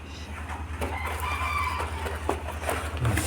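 A Japanese bantam rooster crows on a small integrated farm in Nawalparasi, Nepal, a drawn-out, wavering call heard fairly near over a steady low hum, with no talk.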